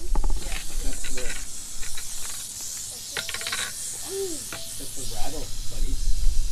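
A rattlesnake near a house deck rattles its tail in a steady dry hiss that runs under the scene, while people talk nearby in short remarks.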